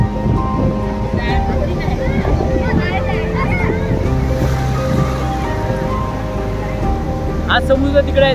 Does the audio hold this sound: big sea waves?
yes